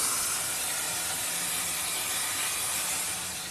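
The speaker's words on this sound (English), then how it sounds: "all of the steam coming out everywhere" Steam hisses continuously from a steam wagon as water trapped inside is boiled off by the boiler's heat, a loud, broad, unbroken rush lasting the whole moment.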